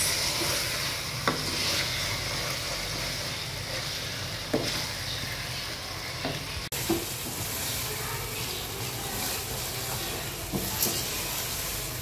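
Masala sizzles and fries steadily in a pan for homemade pasta, with occasional stirring clicks and scrapes. The sound is moderately close and continuous, with no talking.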